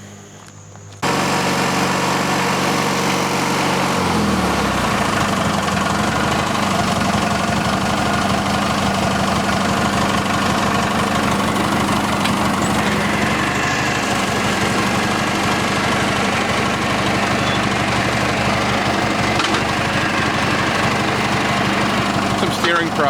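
A 1989 Craftsman GT-18 garden tractor engine starts up and settles into a steady, loud, even idle that runs on continuously, close by.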